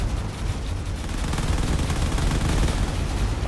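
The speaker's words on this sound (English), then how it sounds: "The battleship in the distance is also just firing away with whatever it has." A video-game battleship pounding away with cannons and missiles: a continuous, dense barrage of booming shots and blasts that rumbles steadily throughout without pause.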